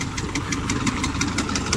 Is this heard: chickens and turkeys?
no